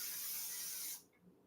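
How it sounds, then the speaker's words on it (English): A can of oil-based cooking spray hisses in one steady, close burst for about a second beside a stove, then cuts off abruptly into near quiet. "spray this oil-based spray away from the stove"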